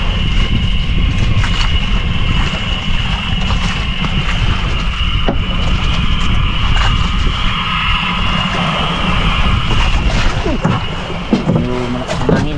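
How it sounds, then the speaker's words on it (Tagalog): Strong wind roars steadily over open water, buffeting the microphone with a constant low rumble and hiss, with faint voices and clatter near the end. "Malakas ang hangin."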